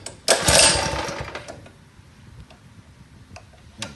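Pull-start of a Road Rat go-kart's small engine: a loud burst as the cord is pulled, then a steady, fainter idle with faint ticking clicks, alone with no talk.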